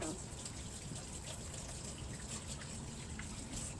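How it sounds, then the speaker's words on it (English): Hands being washed under a running kitchen tap, a steady close rush of water with soft splashing throughout, fairly loud and continuous. "Wash my hands."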